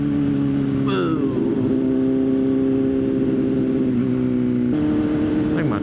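A motorcycle ridden on a road alongside another rider, its engine a steady close droning hum that shifts pitch slightly as it changes speed, with wind rumble throughout and a brief voice near the start.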